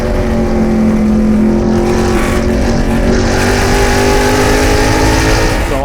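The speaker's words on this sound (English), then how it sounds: "now we're on board with Rafa Matos, who I'm hearing has to do a drive-through penalty for jumping the start" Onboard a TA2 race car during a race at World Wide Technology Raceway, the engine drones loud and unbroken at high revs with a steady tonal whine, pitch shifting slightly as the car accelerates.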